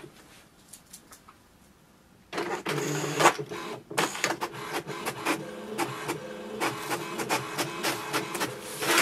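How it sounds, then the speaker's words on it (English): An HP Tango X inkjet printer runs off an information page: after a quiet start it whirs into action with rhythmic mechanical clacks, paper feed and carriage movements, steady and close. "It will print the printer information page now."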